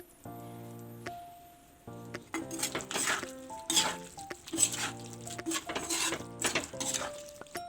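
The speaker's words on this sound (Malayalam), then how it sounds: "ഇപ്പം നന്നായി മിക്സാക്കി എടുക്കുന്നുണ്ട്" Fish keema stirred and mixed in a pan with a metal spoon, scraping and clinking against the pan under a loud sustained musical tone, with a soft sizzle in the background.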